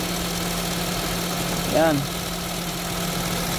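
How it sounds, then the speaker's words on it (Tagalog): A tuned-up Honda Jazz engine idles with a smooth, steady low hum throughout while a voice briefly speaks over it. "Tahimik na naman ng makina, oh."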